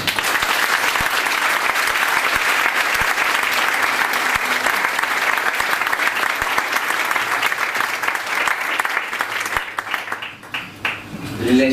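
A large crowd at a book presentation in a bookshop applauds loudly and steadily, the clapping holding for most of the stretch before thinning out and fading near the end.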